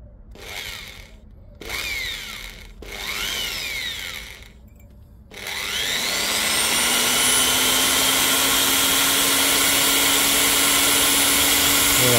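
A power drill with a very small bit whirs in three short bursts, then runs continuously at a steady high whine, loud and close, drilling out a broken injector stud on a Citroën Berlingo 2.0 HDi.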